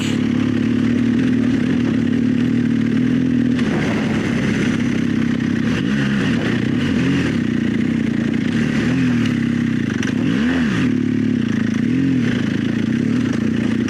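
An adventure motorcycle on Bridgestone AX41 adventure tires crawls over rocks: a loud, steady engine drone close to the microphone, with rising and falling pitch as gears shift and the throttle changes, plus occasional clatter from the terrain.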